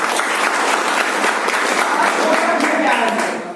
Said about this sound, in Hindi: इसके लिए चाहेंगे जोरदार ताली सर